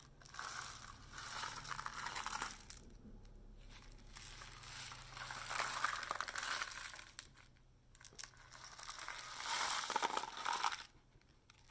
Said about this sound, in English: So kind of mimicking the sounds of rain.